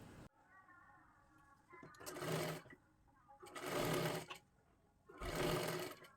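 A sewing machine runs in three separate bursts, stitching folded blouse-piece cloth for a pooja plate cover, each whirring run lasting about a second with quiet pauses between; a faint voice murmurs before the first run.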